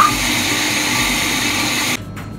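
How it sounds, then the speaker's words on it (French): A large professional grinder blending almonds for a galette des rois frangipane runs with a loud, steady mechanical whir for about two seconds, then cuts off abruptly, leaving a quieter hum and faint clatter. "C'est un gros broyeur. C'est fait pour les professionnels."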